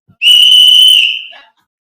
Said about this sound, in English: Blow that damn whistle Wednesday. I gotta blow it for her.